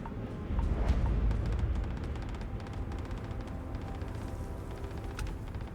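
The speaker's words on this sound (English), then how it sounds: "I hear gunfire." Distant gunfire in Starfield, a low rumbling volley of shots that swells early and then keeps rattling faintly over background noise.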